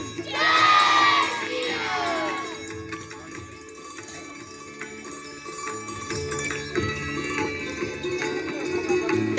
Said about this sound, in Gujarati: જોરથી બોલીએ જય શ્રી રામ